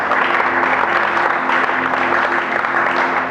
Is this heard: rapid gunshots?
no